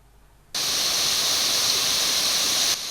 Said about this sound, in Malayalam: ദേശമംഗലം ഒലിച്ചിയിലെ ചെക്ക് ഡാം നിറഞ്ഞു കവിഞ്ഞൊഴുകുന്നത് ചെറിയ വെള്ളച്ചാട്ടമായി മാറിയതാണ്